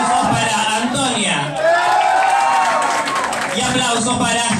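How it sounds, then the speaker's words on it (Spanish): Audience clapping, whooping and cheering for a contestant during a televised qualifying round, a dense continuous crowd swell with voices mixed in. "Aplausos para Antonia."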